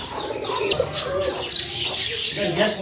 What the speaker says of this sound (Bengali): খুব চমৎকার এক জোড়া তুরি বাস কবুতর